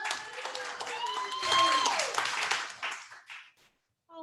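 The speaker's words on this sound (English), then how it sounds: "Can I get started with a round of applause?" An audience applauds at a fun house show, with continuous clapping partly masked by voices calling out over it, trailing off into near silence at the end.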